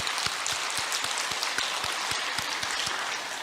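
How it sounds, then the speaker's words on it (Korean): An audience at a church revival meeting applauds, giving a steady wash of many hands clapping with a few sharper claps standing out, moderately loud and unbroken, with no voices. "박수로 축복합시다."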